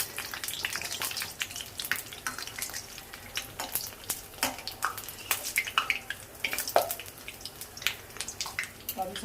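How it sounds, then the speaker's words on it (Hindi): Bread pakoras sizzle and crackle steadily in oil in a kadhai, a continuous busy frying patter with scattered pops throughout, heard close up with no talking. "फ्राई हो रहे हैं भैया धीरे धीरे"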